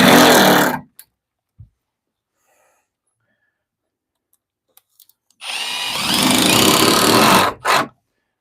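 Power drill driving screws into plywood shelves, heard as a short burst at the start and a longer sustained whine near the end, with a few faint knocks in the quiet gap between.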